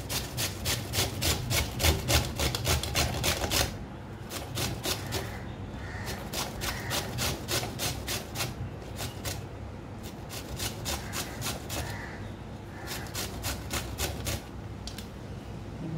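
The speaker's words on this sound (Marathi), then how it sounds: "तर आपण आता सगळ्या कैऱ्या ज्या आहेत त्या कापून ठेवलेल्या आपण ह्या किसून घेऊया" Raw green mangoes are rubbed over a hand grater in fast, rhythmic rasping strokes that run in bursts with brief pauses, close and steady throughout with no talking.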